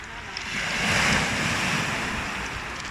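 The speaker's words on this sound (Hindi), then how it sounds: "तो इधर हम आए हैं समंदर पे, समंदर का मंजर दिखाते हैं।" Surf washing onto a beach in Lebanon, a steady broad rush of breaking waves mixed with wind buffeting the microphone, swelling slightly in the middle and continuing without a break, with no voices.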